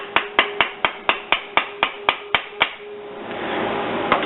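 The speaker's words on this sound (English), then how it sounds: "Apply a little force to the tool, in turn still tapping on your screwdriver," A screwdriver is tapped with a tool to seat the front servo cover of a transmission, giving about a dozen sharp, evenly spaced metallic taps, close and crisp, followed by a stretch of steady background hiss and one last tap.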